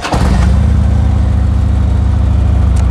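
A 2012 Harley-Davidson Tri Glide with stock mufflers fires up and settles into a loud, close, steady low rumble with an even throbbing idle.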